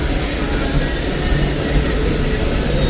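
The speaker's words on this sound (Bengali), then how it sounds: "এই যে আমাদের উল্টো সাইডের মেট্রো চলে এসছে, মেট্রো এগোচ্ছে" A metro train arrives on the opposite track at a station platform, making a loud, steady rumble with a dense roar that fills the whole clip.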